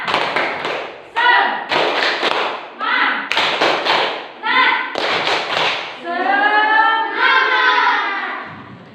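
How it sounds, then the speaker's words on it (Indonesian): A primary school class in Tabalong, Indonesia performs a rhythmic tepuk semangat chant, children's voices shouting in unison between bursts of synchronized clapping, a patterned sequence of about eight groups of claps and calls ending on a sustained group shout. "Sebelumnya mari kita tepuk semangat dulu."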